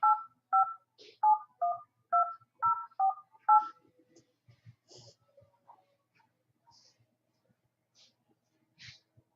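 A telephone number is keyed in as eight quick touch-tone beeps in an even rhythm, loud and close, followed by faint clicks and soft breathy noises.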